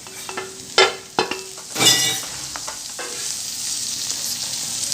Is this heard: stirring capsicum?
yes